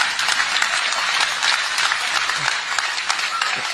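A large audience applauds continuously, dense and loud clapping filling the whole clip at a steady level.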